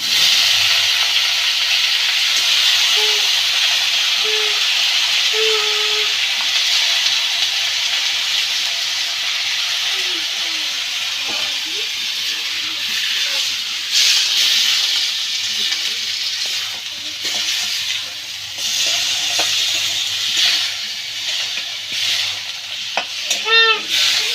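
Mutton goes into a pan of onions fried deep red for dum ka mutton, and a loud, steady sizzle and hiss follows, with occasional stirring scrapes close by and no talking.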